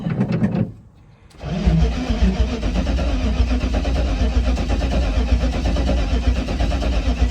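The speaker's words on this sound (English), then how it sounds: "we are a second away from just cranking it, getting some oil pressure, make sure there's no weird clunks" A car engine turns over on its starter to build oil pressure without firing: a brief burst, a short pause, then about six seconds of steady, loud, close cranking with no talk.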